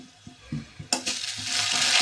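Curd and spice mixture stirred in a kadhai, a few soft knocking strokes and then a rising hiss of sizzling that builds and holds, close and fairly loud.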